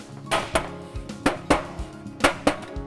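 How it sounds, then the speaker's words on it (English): Several sharp hammer taps ring out in an irregular rhythm, close by, each a crisp knock with a short metallic ring, as trim is tapped onto a cut edge. "you can take your hammer and"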